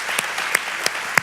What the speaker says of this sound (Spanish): You should applaud for that.